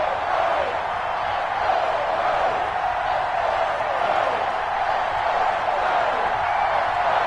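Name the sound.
stadium crowd cheering in EA Sports NFL video game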